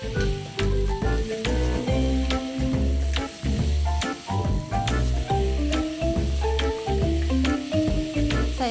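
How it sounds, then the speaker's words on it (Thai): Pork belly sizzles and crackles steadily in hot oil in a pan over medium heat, a loud, dense frying hiss with intermittent stirring clatter and no talking. "รอจนน้ำมันเริ่มร้อนก็ใส่หมูสามชั้นลงไปผัดให้เริ่มสุก"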